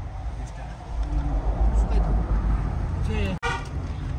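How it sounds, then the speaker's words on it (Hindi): Car horn honking briefly during a drive across a river bridge in the mountains of Nubra Valley, Ladakh, heard over steady road and engine noise inside the vehicle, with voices talking. "यहाँ पे थोड़ी बहुत हॉर्न जो है ना काम कर रही है, अच्छे से आवाज मिल रही है।"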